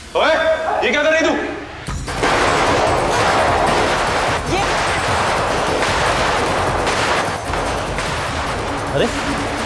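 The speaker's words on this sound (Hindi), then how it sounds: "अरे इतनी रात को ये पटाखों की आवाज" Rapid, crackling bursts of firecrackers go off at night in a dense string, loud and continuous, after a brief stretch of voices at the start.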